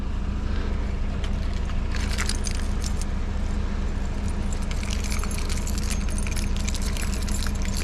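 A bunch of keys jangles and clinks near the microphone while a street scrapper unlocks a container, the rattling bursts sitting over a constant low engine-like drone.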